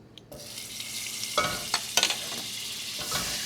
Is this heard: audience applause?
no